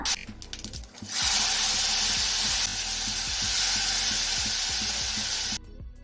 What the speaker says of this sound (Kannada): ಒಂದು ಟೀ ಸ್ಪೂನಷ್ಟು ಜೀರಿಗೆ ಕಾಲು ಚಮಚದಷ್ಟು ಇಂಗು ಹಾಗೂ ಎರಡು ಗರಿಯಷ್ಟು ಕರಿಬೇವನ್ನು ಸೇರಿಸ್ಕೊಂಡು ಫ್ರೈ ಮಾಡ್ಕೊಳ್ತಾ ಇದ್ದೀನಿ